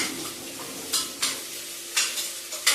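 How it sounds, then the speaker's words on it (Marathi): Soybean chunks frying in hot oil for soybean pulao, with a soft continuous sizzle broken by a few sharp scrapes of a spoon stirring against the pan, close up and with no talking. "आता आपण हे सोयाबीन टाकू देतात तेलात."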